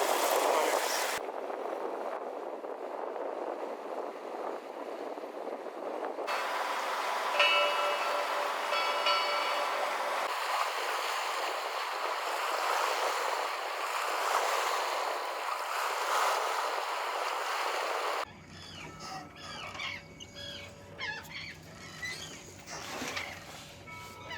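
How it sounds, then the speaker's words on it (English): A sailboat moves under sail on open water near the Statue of Liberty in New York, with steady wind and water rush throughout, shifting abruptly between sections, with quieter passages and faint tonal sounds toward the end. "We're just sitting here under sail, floating along"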